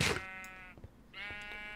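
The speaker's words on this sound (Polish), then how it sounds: "Następna owca." Two sheep bleats in the video game Minecraft, each a wavering, nasal baa, close and moderately loud, separated by a short pause.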